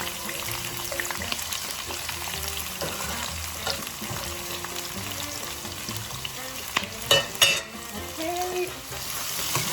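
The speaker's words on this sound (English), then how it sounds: "to my pan, I'm gonna add a 1 large red onion. And 1 large red pepper." One large red onion and one large red pepper frying in a pan, a continuous close sizzle broken by stirring scrapes and a few louder clatters near the end, with no talk.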